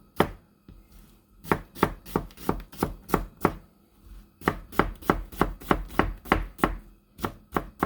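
Knife chopping onions and peppers coarsely on a board for chili, a fast even run of crisp close thuds that pauses briefly, then picks up again in a steady rhythm, no voices.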